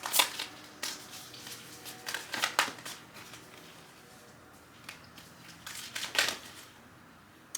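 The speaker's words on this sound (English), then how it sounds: "So I'm just going to go ahead and do a quick shuffle." Quick bursts of tarot cards being shuffled, soft riffling pulses that come in uneven clusters and are separated by brief quiet gaps, close up and fairly faint, with no speech.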